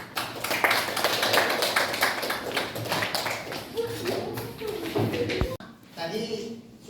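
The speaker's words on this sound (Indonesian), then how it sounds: "Berikan aplaus." A classroom audience gives a round of applause, dense close clapping that stops abruptly, followed by a quieter stretch with a voice speaking.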